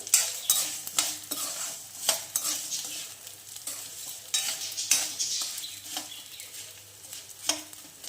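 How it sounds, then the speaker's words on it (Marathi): Food roasting in a spoonful of ghee in a pan, a soft sizzle broken by repeated scraping stirs and light clinks of a utensil, steady and close with no talking. "याला छान भाजून घेऊया"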